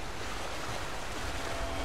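Steady rushing water flows as a continuous broadband wash beside a river in Skyrim, with no voices.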